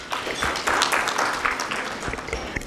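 A business-event crowd from the leather trade gives a steady round of applause, many hands clapping together in a dense, even wash that holds throughout.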